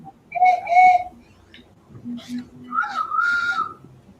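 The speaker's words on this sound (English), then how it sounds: "That was the slide whistle I have." Two pairs of warbling slide whistle tones rise and fall in pitch, loud and close, with a low hum between them.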